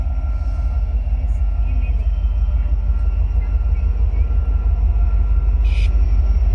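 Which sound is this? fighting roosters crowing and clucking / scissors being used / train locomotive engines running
train locomotive engines running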